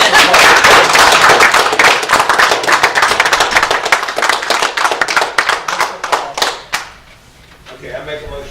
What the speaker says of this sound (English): Can we just clap for Jim?